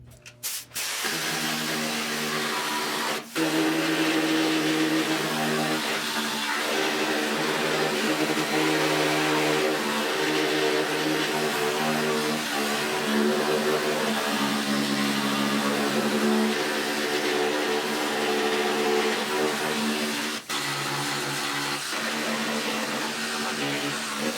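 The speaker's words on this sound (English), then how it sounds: "I'm gonna hit it with the needle scaler to see how big is the damage" A needle scaler works on the rusty battery box of a 1974 Triumph TR6, a loud, steady pneumatic buzzing rattle that runs almost unbroken for over twenty seconds, briefly stopping twice.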